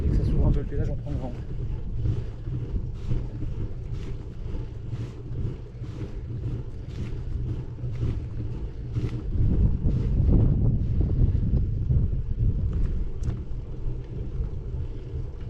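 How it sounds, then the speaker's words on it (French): Wind on an open mountain pass at the Col de la Croix de Fer roars steadily against the microphone as a dense, constant low rumble with gusty swells. "Dès que ça s'ouvre un peu le paysage, on prend le vent."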